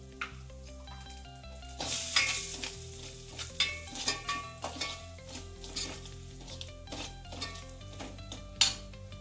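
A tempering with asafoetida for drumstick dal amti frying in a pan while a spoon stirs it, the steady sizzle broken by repeated scraping and clinking strokes of metal on the pan, close and without talk.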